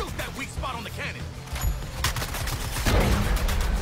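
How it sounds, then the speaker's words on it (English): Rapid bursts of gunfire hammer at a cannon in the Suicide Squad: Kill the Justice League video game, with dense overlapping shots and impacts building louder toward the end, mixed with game effects and some voices. "Shoot that weak spot on the cannon!"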